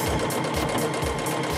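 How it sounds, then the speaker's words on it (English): A domestic sewing machine runs steadily during free-motion quilting on a flatbed extension table, its rapid mechanical stitching whir close and continuous with a rhythmic pulsing throughout. "So let me put my foot down and do some of this sewing here."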